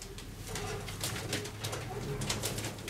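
Soft, low cooing of Wyżymacz racing pigeons repeating over steady background noise, fairly close, with occasional brighter flutters or calls mixed in.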